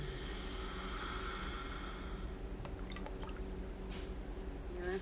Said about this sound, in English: I'm going to pour the lye solution. I'm actually going to strain it into my oils